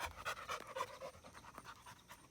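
A bulldog-type dog pants rapidly and steadily up close in an outdoor yard, with quick rhythmic breaths continuing throughout.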